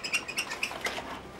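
Parrots at a bird clinic give a quick run of bright, close chirps and short squawks, several overlapping calls packed into a second or so with no talking.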